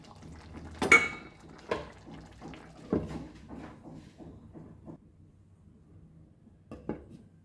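A metal lid goes onto a pot of mutton curry in a kitchen, a sharp clang followed by a few lighter knocks and clinks, close and then trailing off into quiet.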